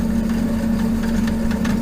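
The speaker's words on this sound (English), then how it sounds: "Get you a little bandsaw action." A small bandsaw slicing brass stock for business card holders gives a steady, close motor hum with faint rasping bursts from the blade biting the metal.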